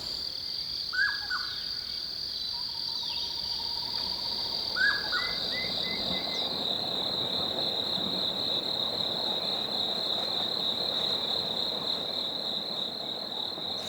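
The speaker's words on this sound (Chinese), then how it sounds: "虫鸣的声音" Insects chirp steadily in a rice field, a dense continuous high-pitched trill with a few brief bird calls near the start, no talking.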